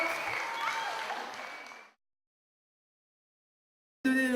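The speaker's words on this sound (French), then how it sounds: "on les applaudit plus fort que ça" Wedding guests applaud for about two seconds, a dense patter of clapping that fades out into silence before a voice begins at the end.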